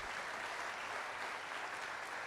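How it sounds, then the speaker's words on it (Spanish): Church congregation applauding during a sermon, a steady wash of many hands clapping, even and fairly distant, with no voices over it. "Denle un aplauso fuerte a Dios."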